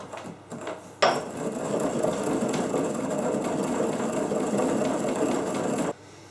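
Cumin seeds are ground in a small grinder, a continuous close mechanical whirr and rattle that starts abruptly, runs steadily for about five seconds, then stops.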